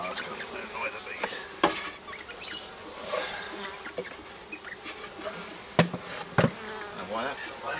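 Honey bees hum in a steady, busy drone at an open backyard hive, with occasional clicks and knocks of handling close by and faint voices in the background.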